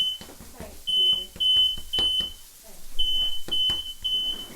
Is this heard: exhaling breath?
no